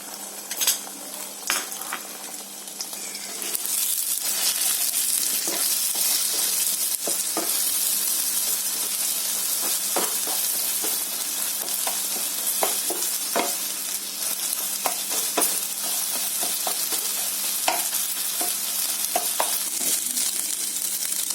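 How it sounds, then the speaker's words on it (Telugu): Beaten egg scrambles in a hot pan for chicken fried rice, a loud steady sizzle running throughout with a spatula scraping and tapping the pan in quick irregular strokes, close and continuous. "దీన్ని ఇప్పుడు ఆమ్లెట్ వేసుకుందాం. దీన్ని స్క్రాంబుల్ చేసుకుందాం."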